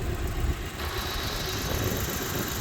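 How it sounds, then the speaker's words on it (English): A Mitsubishi Pajero Mini's 660cc inline-four with a small turbo idles steadily with the hood open, a close, even mechanical hum with a faint high whine running throughout. "underneath the hood of the Pajero Mini we'll find a 660cc inline 4-cylinder with a small turbo"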